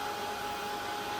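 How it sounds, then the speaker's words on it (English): A Ranger Heat It craft heat tool blows hot air over decoupage gel on a napkin greeting card, a steady, even whooshing hiss at moderate volume with no voices. "So I'm just using my Ranger Heat It tool."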